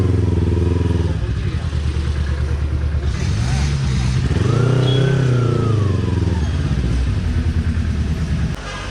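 A Royal Enfield Thunderbird motorcycle engine runs steadily and loud up close while riding, its low thumping tone rising and falling as it revs, with talk over it.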